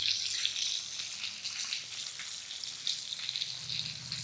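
A ribeye steak sizzles steadily in a frying pan inside a car, a continuous crackling hiss with small pops, moderately quiet and uninterrupted.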